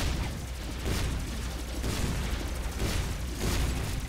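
Grenade blasts from Doom 2 gameplay on a custom map thud in a continuous chaotic barrage, dense muffled booms and crackling gunfire pulsing roughly every second, loud and close.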